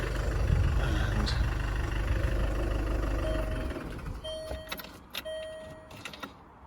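A Land Rover Freelander 2 engine runs just after a crankshaft position sensor replacement, a steady low rumble that cuts off partway through, leaving faint clicks and a few short electronic chimes.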